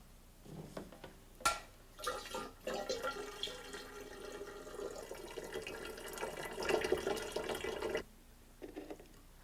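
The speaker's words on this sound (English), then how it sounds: "With your mouth, you siphon the liquid and let it flow into the carboy." Wine being siphoned from a primary fermenter into a glass carboy, a steady close trickle and splash of liquid filling the vessel with a few knocks and clinks, stopping near the end.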